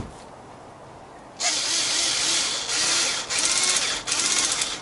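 A Black & Decker cordless power driver whirs up after a quiet moment, close and steady, then runs in several bursts with short dips between them.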